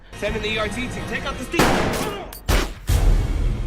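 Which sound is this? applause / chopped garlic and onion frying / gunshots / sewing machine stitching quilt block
gunshots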